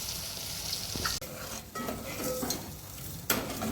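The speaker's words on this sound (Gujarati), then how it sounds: "તો મસાલાને આપણે 5 મિનિટ સુધી આ રીતે હલાવતા રહીશું" A spoon stirs dabeli masala in a hot pan, steady sizzling under repeated scrapes and a few sharp metallic clinks against the pan, close and alone with no voices.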